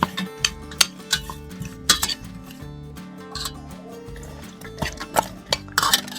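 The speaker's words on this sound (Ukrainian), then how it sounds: "І засипаємо столову ложку солі і перекалапуцяємо гарненько." Sliced cucumber being tossed with a tablespoon of salt in a bowl, with sharp clinks and scrapes of a utensil against the bowl over soft background music.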